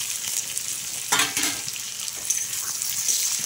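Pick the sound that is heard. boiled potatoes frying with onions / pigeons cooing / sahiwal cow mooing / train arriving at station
boiled potatoes frying with onions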